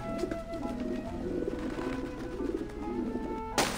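Birds flap off a ledge in the video game Grim Fandango, a continuous fluttering bustle with cooing pigeon or dove calls over steady ambient game music, ending in a brief bright burst.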